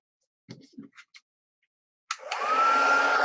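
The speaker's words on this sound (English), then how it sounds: "I'm just going to turn my heat tool on so that it's getting ready before I actually need it." A few soft handling clicks and taps, then a crafting heat tool switches on with a loud, steady blowing whoosh that holds to the end, a faint rising whine under it as the motor spins up.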